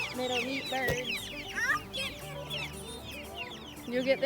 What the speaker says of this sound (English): Go over here and eat, little meat birds.